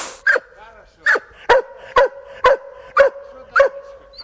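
Hunting dogs in the Siberian taiga bark seven times in a steady, evenly spaced series, the sharp barks loud and close against a quiet forest background.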